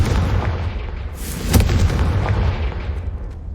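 A Confringo fire spell from Hogwarts Legacy bursts with one sharp, loud blast partway through, rising out of a steady rumbling game backdrop that continues around it.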